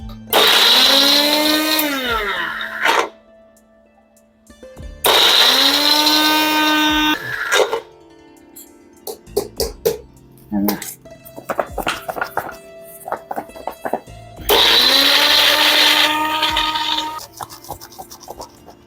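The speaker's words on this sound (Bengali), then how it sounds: "আমি প্রথমে এগুলোকে বারবার বন্ধ করে আর চালিয়ে একটু ভালো করে ব্লেন্ড করে নেব এটাকে" A blender grinds dried ginger into powder in short on-off bursts: three loud whirring runs, each a couple of seconds long, with rattling and knocking in between as the jar is shaken.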